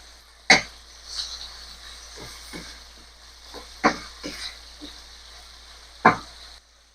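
A spoon clinks and scrapes in a pan of frying pork, giving a few sharp scraping strikes and softer stirring taps over a low sizzle, fairly close and spaced irregularly.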